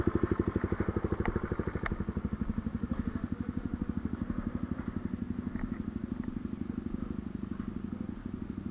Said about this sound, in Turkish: Motoru stop edemiyorum. Çalışması lazım.